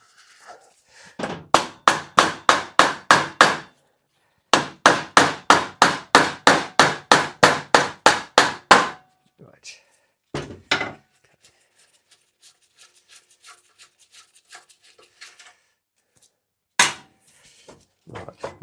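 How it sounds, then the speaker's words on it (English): A hammer taps a bolt to free a seized blade carrier on a Suffolk cylinder mower, two long runs of rapid, evenly spaced metallic blows, then sparser, softer knocks and a final loud strike. "let's just put the bolt back in there and just give it a tap"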